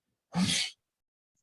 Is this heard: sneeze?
yes